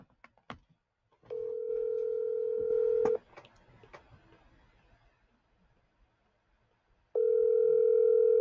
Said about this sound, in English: I'm gonna call Hector on the phone so he can give me his closing on the phone